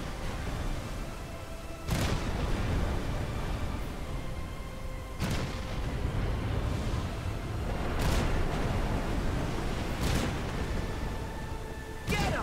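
Heavy booming cannon blasts in the video game Kingdom Hearts 3, about five of them at irregular intervals, each a sharp loud burst over a constant low rumbling game background.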